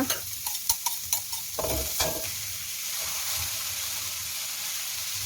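Ginger and aromatics stir-fried in a pan for shrimp with glass noodles: a steady sizzle runs throughout, with a quick run of scraping spatula strokes and clinks at the start that give way to continuous frying noise.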